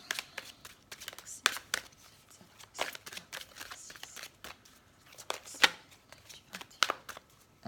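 An oracle deck (Oracle des Miroirs) shuffled for a nine-card reading, with rapid, close papery riffles and sharp card snaps repeating steadily and no talking over them.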